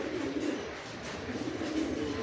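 Pigeons, Giribaz flying pigeons kept for sale, coo softly and close in a brief low murmur against a quiet background.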